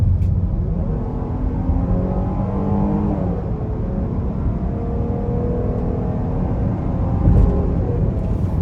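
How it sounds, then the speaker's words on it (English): A 2021 Jeep Grand Cherokee L Overland accelerating in sport mode, heard from inside the cabin as a steady, loud engine rumble with rising tones as the revs climb and shift, and no talk over it. "So we're gonna put it in sport and we're gonna accelerate here."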